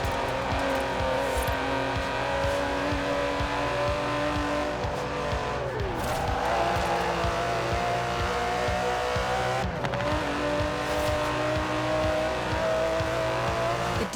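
Aston Martin DB11 with a 5.2-litre twin-turbo V12 racing in Forza Horizon 4, a loud continuous engine drone with shifting pitch through gear changes and brief tire squeals, no voices over it.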